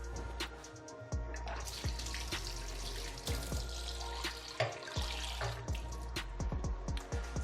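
Water runs and splashes into a cooking pot of meat being prepared for ogbono soup, a steady close pour with small clinks of the pot over a low background hum, no talking.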